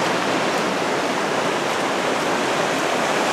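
Talapus Creek in the Alpine Lakes Wilderness rushes beneath a hiking bridge, a loud, steady wash of flowing water with no other sounds.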